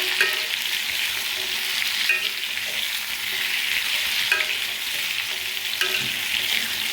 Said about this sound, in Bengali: এই আলুগুলো ভেজে নিচ্ছি